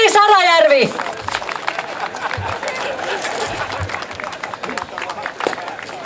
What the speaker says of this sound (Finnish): annetaan raikuvat aplodit vielä kerran